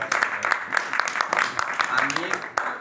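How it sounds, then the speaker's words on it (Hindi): A church congregation applauds loudly during a sermon. Steady, dense clapping runs throughout, with voices and cheering rising over it. "जोरदार तालियां"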